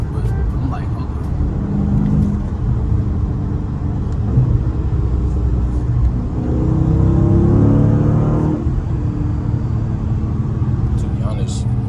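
A Scat Pack–swapped Dodge Challenger driven fast, its engine rumbling and revving as it surges, heard from inside with someone talking over the steady drone.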